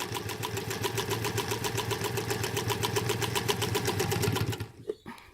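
A sewing machine runs steadily for several seconds, stitching a quarter-inch seam through leader cloth during quilt piecing, with a fast even hum and needle rhythm before stopping abruptly; near and loud, with no talk.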